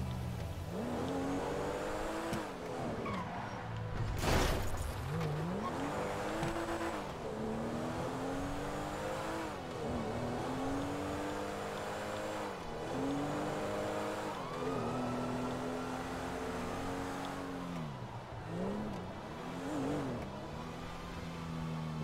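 Porsche sports car in GTA V pulling away fast, engine revving hard through repeated gear shifts with rising and falling pitch, steady and fairly loud throughout.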